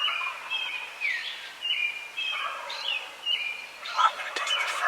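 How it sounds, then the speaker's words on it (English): Several wild turkeys gobble in repeated bursts during a spring hunt in Connecticut, the calls overlapping at a moderate distance against a quiet outdoor background. "Got a lot of birds gobbling."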